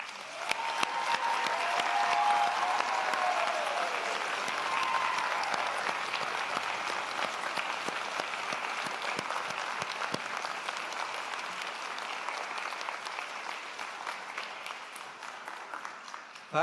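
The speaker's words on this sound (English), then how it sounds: "Graduates, a round of applause," Graduates at a MacEwan University convocation ceremony give a long, sustained round of applause from a large indoor audience, a steady wash of many hands at moderate distance with a few cheers near the start, tapering slightly toward the end.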